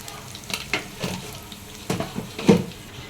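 Okra fry base cooking in a pan as a pinch of turmeric goes in, a steady close sizzle of frying with intermittent stirring scrapes and a few louder clinks.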